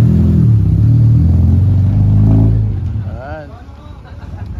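A Mitsubishi Lancer engine said to have loose compression and misfiring revs loudly from idle, holding a high drone before dropping back, with someone speaking briefly near the end as it settles.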